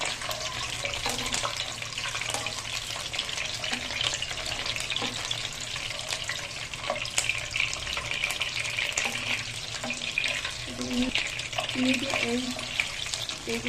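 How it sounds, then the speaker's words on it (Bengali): Eggs frying lightly in a pan over medium heat for egg korma, a steady close crackling sizzle running throughout with faint clinks. "এখন আমি ডিমগুলো ভেজে নেব।"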